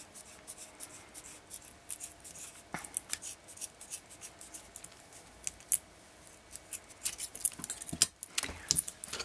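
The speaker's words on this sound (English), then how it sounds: "I'm going to cut these off" Scissors snip kumihimo braid cords close in a beaded bracelet, with a series of small sharp cuts and light rustling handling sounds, fairly quiet and without talk.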